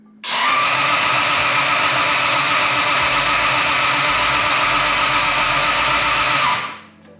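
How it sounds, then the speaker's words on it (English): A Toyota 2JZ engine fitted in a Datsun 260Z cranks over on the starter in one steady, loud, close whir for about six seconds without catching, then stops abruptly. "So we're gonna try and crank it over and see what happens here."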